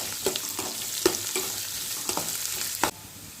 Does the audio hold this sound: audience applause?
no